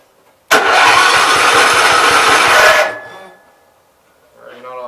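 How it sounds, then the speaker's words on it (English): A 1974 Gravely 408 tractor engine cranks with a loud, harsh roar for about two seconds, then sputters and dies away. A voice follows briefly at the end. "should be able to start and drive this thing out here"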